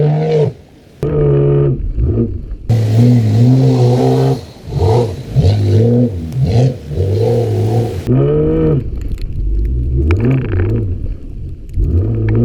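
A Jeep on 37-inch BF Goodrich AT tires revs hard while spinning donuts in snow, its engine note rising and falling in loud, close surges with brief dips between pushes.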